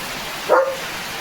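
A German Shepherd gives a single short bark, close and clear, against a steady wash of rain drumming on a tin roof.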